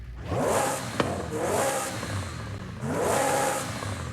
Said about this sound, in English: the exhaust sound with the race exhaust